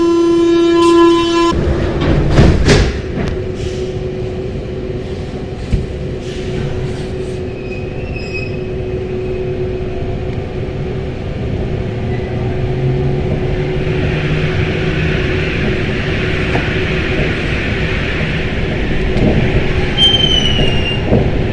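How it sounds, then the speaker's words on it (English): A Paris Métro line 4 train on the new extension departs northwards, opening with a short electronic chime before the motors whine and rise, then a long, loud rumble of wheels and a high squeal as it gathers speed. "Then my train now departs heading northwards up the extension."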